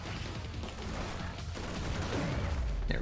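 Gunfire from the action roguelike Scourgebringer, a dense, continuous burst of rapid shots layered over busy game noise and effects, steady and loud throughout with no pause.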